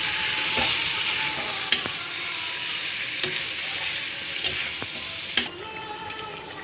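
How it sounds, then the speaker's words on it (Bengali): Fried pointed gourd and potato pieces stirred into sizzling spice paste in a pan for doi potol, a continuous loud sizzle with occasional clacks and scrapes of the spatula, heard up close without speech. "এবার আমি পটল আলু যে ভেজে রেখেছিলাম সেইটা দিয়ে দেবো, একটু লাড়াচাড়া করে জল দিয়ে দেবো একটু।"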